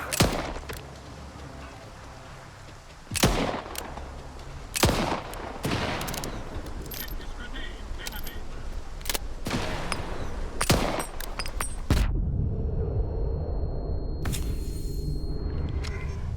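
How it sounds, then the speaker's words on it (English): A grenade blast and gunfire in a video game: scattered sharp shots crack at intervals, then a heavy rumbling explosion lands near the end and lingers as a low roar. "that grenade bounced a little further than I thought it was going to"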